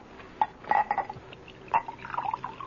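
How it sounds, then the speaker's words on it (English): Wine poured into a glass in a radio drama: gurgling, rising trickles and small glugs, close and moderately loud, in short bursts with brief pauses. "Let me fill your glass."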